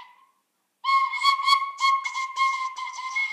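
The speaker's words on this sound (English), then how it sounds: "Class, we are doing tin whistle." Tin whistle plays Happy Birthday in a school music class: clear, bright melody of short separate piped notes, close and loud, heard alone after a brief quiet start.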